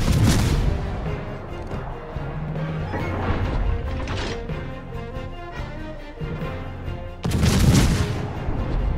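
Heavy main-battery salvos from the tier 8 IJN warship Shimanto in World of Warships: a loud booming blast opens, a dense rumbling battle bed follows, and a second big volley erupts near the end.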